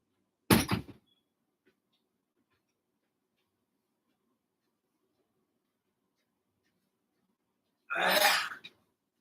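A door is opened or closed, heard as two separate thudding bangs several seconds apart in a quiet room, the first sharp and brief, the second a longer rattling knock.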